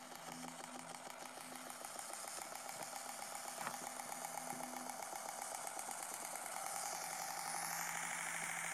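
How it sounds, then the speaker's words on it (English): A simple homemade brushed electric motor runs on a battery, its buzzing whine rising gradually in pitch as it revs up. It is heard alone, close and fairly quiet. "Let me put the juice back on and I'll show you how it revs up here."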